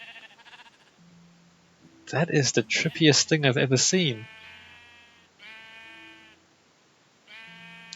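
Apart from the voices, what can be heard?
sheep bleating in Minecraft video game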